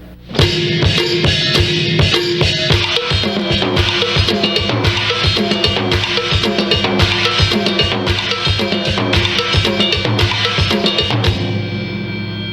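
A full drum pattern with both hands combines jam block, timbale, snare and bridge drum hits in a dense, driving groove of rapid close strikes, steady throughout before a final ringing decay.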